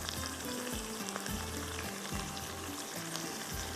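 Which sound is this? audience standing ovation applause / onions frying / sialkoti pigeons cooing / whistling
onions frying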